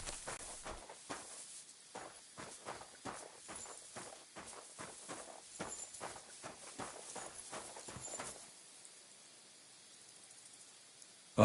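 Horse hooves clip-clop at a steady walking rhythm along a path in Kingdom Come Deliverance 2, close and clear for about eight seconds before fading into quiet ambience.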